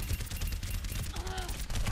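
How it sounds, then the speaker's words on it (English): Rapid gunfire from an Overwatch match, dense crackling bursts filling the whole stretch at moderate level, with a brief tonal game effect partway through. "You're shooting at me, Ethan."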